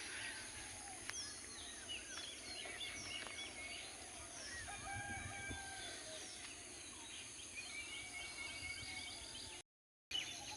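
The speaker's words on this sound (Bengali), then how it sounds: "কিচির মিচির শব্দে সকালে" Birds chirp and call faintly from a distance in a rural Bengal village on a morning near rice harvest time, a steady soft chorus with a brief dropout near the end.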